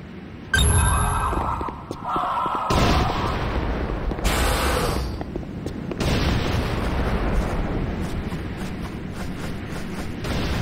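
A deep booming C4 explosion bursts out loudly in Command & Conquer: Renegade, followed by sustained rumbling blasts and crackling debris with game-style effects layered on top.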